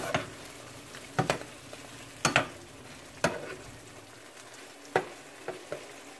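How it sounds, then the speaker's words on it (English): Tinned mackerel frying in a pan hisses in a low steady sizzle, while a spoon knocks and scrapes against the pan in scattered sharp strokes, close up and with no voices. "Gonna stir it up"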